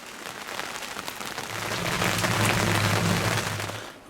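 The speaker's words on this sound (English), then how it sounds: "while it's pissing down with rain" Heavy rain pours down outdoors at a fishing lake, a dense, steady hiss of drops drumming on surfaces that swells slightly louder midway, with a low hum underneath.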